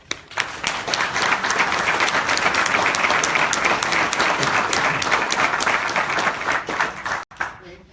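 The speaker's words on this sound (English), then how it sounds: "I ask that you hold your applause" An audience at a local candidates forum breaks into loud, dense applause that holds steadily for several seconds before cutting off, with some talk mixed in.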